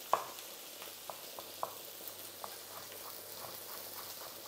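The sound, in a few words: chicken breast sizzling while searing in a pan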